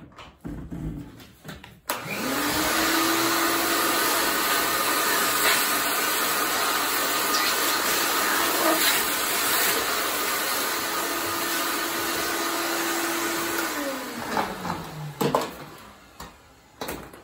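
Vacuum cleaner sucking up debris during a 1984 Corvette rebuild, switching on with a rising whine, roaring steadily and close with rattles of material being drawn in, then winding down and stopping.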